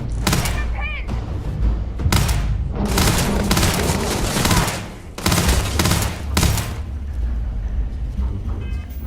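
Gunfire in the Starfield video game: heavy bursts of rapid automatic fire and booming shots in several loud volleys separated by brief lulls, close and dense throughout.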